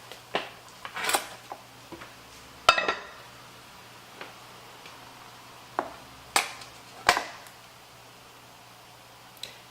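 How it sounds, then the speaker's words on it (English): Cooked pot roast vegetables being lifted out of a Dutch oven onto a sheet pan, a scattered series of sharp metallic clinks and taps of utensils against cookware at irregular intervals, close and clear with no talking. "I'm going to go ahead and take the vegetables out and just put them on a sheet pan here"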